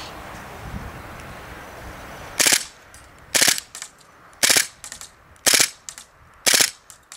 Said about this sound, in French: Je suis en burst de 3 et on y va.